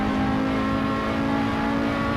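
An Audi Quattro race car in the Assetto Corsa driving game drones loudly and steadily, its engine holding a constant buzzing whine under load with no speech.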